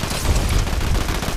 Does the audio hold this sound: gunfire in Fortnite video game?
yes